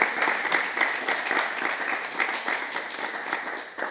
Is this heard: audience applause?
yes